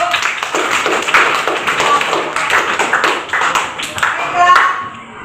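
Classroom of ninth-grade civics students breaks into applause, a dense burst of many hands clapping steadily for about five seconds at close range, with a few young voices chattering underneath.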